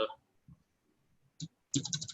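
Computer keyboard typing during a live online advertising webinar, heard as a few sparse clicks early on, then a quick close burst of keystrokes at the end, with short sounds between.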